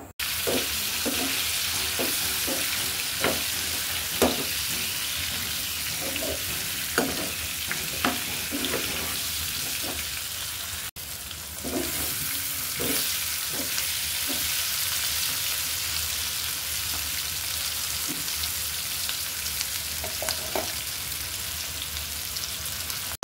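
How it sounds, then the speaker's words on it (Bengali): Potatoes frying in a pan with turmeric and salt make a steady, close sizzle with scattered crackles and occasional stirring clatter throughout. "হলুদ দিয়ে দিলাম, লবণও দিয়ে দিলাম। ভালো করে কিন্তু ভেজে নিব আলুগুলো।"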